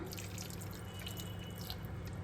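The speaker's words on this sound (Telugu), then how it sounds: "ఇప్పుడు మన గ్రేవీకి తగ్గట్టుగా నీళ్ళు అయితే వేసుకుందాం" Water runs and splashes steadily into a pot of country chicken gravy, a close, continuous liquid pour with light dripping sounds.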